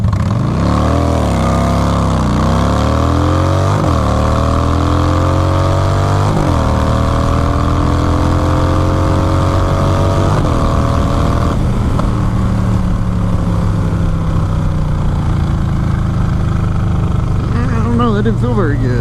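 Motorcycle engine revving and accelerating hard on an empty road in a quick test pull, loud and continuous with rising pitch sweeps as it climbs through gears, close by for the whole stretch.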